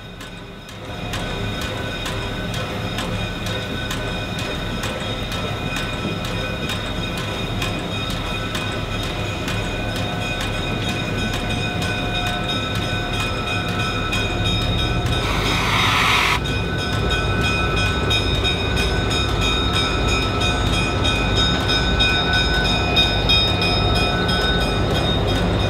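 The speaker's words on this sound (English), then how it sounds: "the old Chicago, Burlington, and Quincy, Nebraska Zephyr, seen here pulling out onto the main line." Chicago, Burlington and Quincy Nebraska Zephyr train pulling out onto a main line, a steady loud rumble of engine and wheels with sustained tonal whine, swelling briefly in a burst of hiss mid-way and growing slightly louder toward the end.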